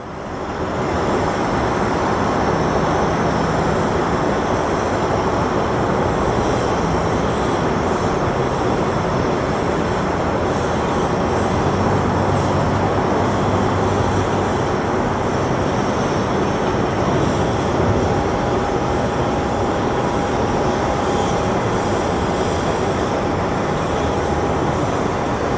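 An MD airliner takes off at Sky Harbor airport, a continuous loud broadband engine roar holding steady throughout with no voices.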